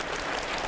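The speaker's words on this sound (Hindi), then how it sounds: "जोरदार तालियां हो जाए, जोरदार तालियां।" A brief burst of dense, loud applause from a crowd, continuous and even.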